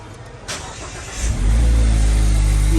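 A Mazda Roadster sports car engine turns over and fires up with a sudden throaty roar, then holds a loud, deep idle close by.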